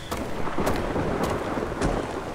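Rain and rolling thunder in the survival game ARK: a steady wash of rainfall with a few sharp, loud cracks of thunder breaking through, no voices.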